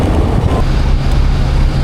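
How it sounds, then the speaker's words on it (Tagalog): Strong wind at a mountainside campsite in Calatagan, Philippines, buffets the microphone with a constant low roar and rumble, no voices present. "Sobrang lakas ng hangin"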